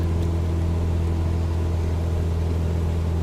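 A Cessna 172 piston engine in Microsoft Flight Simulator 2020 drones at steady high revs, a loud, continuous, low-pitched hum with no pauses or speech.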